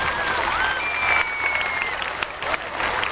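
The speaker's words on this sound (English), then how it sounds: "Everybody, clap your hands as fast as you can." A concert crowd at a show in Dubai claps rapidly and densely, producing a loud, steady wash of applause over about three seconds, with high excited squeals and shouts rising through it.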